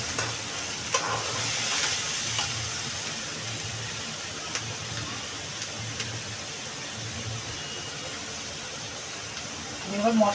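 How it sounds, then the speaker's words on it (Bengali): Bengali masala spice paste for a pea and mushroom (matar mushroom) curry is sautéed and stirred in a pan, with a steady close sizzling hiss and repeated scraping strokes throughout. "এবার মশলাটা ভালো করে কষাবো।"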